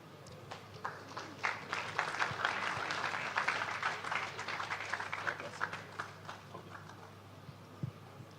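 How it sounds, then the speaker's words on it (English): A crowd applauds with scattered clapping that swells and then gradually thins out, fairly quiet and a little distant. "A round of applause for this amazing session."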